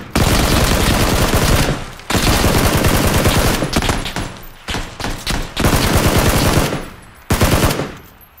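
Rapid automatic gunfire in the PUBG battle royale game, loud bursts of sustained shooting separated by brief silent gaps, close and heavy.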